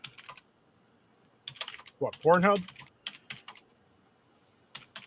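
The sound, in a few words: typing a search on a computer keyboard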